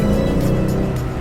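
A Mazda CX-9 AWD Signature Edition turbocharged family SUV accelerates hard, its engine drone loud and steady from inside the cabin with no talk.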